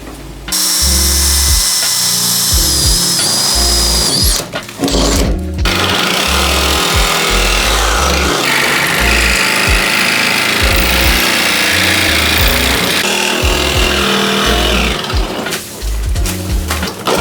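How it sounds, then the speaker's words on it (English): Power tools, a drill with a 3/8 inch bit and then a jigsaw, cutting through Ford Transit van body metal, a loud continuous buzzing and rattling drone with short pauses, close and harsh throughout. "we're just gonna start with a 3/8 inch drill bit that we'll then use the jigsaw to cut around this entire edge here"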